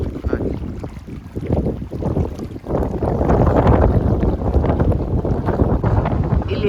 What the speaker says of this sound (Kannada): ಇಲ್ಲಿ ಎಷ್ಟು ಗಾಳಿ ಬರ್ತಿದೆ ನೋಡಿ